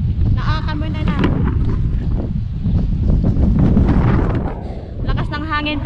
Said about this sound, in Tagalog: Lakas ng hangin, para akong tinatalo ng hangin